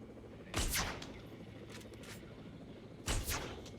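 Two sharp, loud dart rifle shots from the video game Jurassic World Evolution, spaced about two and a half seconds apart, each with a brief decaying tail over a quiet, low background hum.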